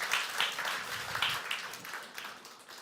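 Brief, moderately loud clapping from a conference audience at a fintech event, scattered hand claps fading slightly over a few seconds.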